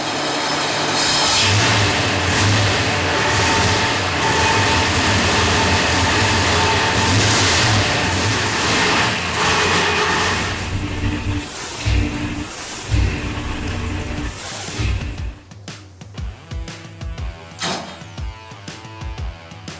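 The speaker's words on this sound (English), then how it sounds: "it's time to fire our big block up and let her rip." A big block V8 race engine built for mud bogging, breathing through 2 1/4 inch dyno headers, roars loudly and steadily on a dyno for a long stretch before sputtering and revving in uneven bursts as it settles.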